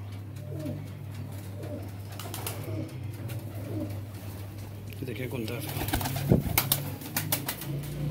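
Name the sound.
Sialkoti pigeons cooing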